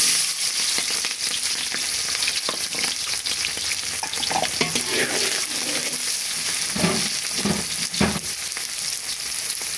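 Onions sizzle and crackle steadily in hot oil in a pan with fried lentils, with scraping stirs from a utensil toward the end.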